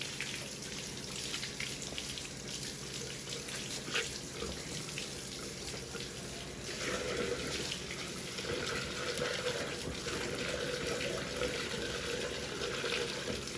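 Water runs steadily from a household faucet into a drain to flush drinking-water pipes, a continuous close splashing hiss that grows slightly stronger partway through, with no talk.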